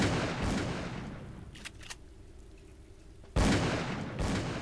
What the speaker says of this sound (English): Hey, stop shooting my friends down there.